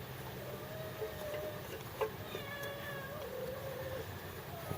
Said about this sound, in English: Cat's meowing at her kittens.